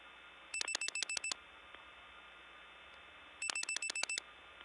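Two separate bursts of six quick, rhythmic clicking pulses from a 1979 step-by-step tandem telephone exchange in Gainesville, Georgia, as 66 is dialed. The pulse trains are sharp and bright, with a quiet, humming pause between them.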